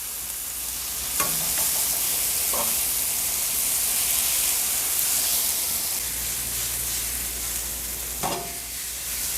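Chicken pieces frying in a pan over raised heat for butter chicken, a steady loud sizzle and hiss with a few brief clinks of turning, no talking.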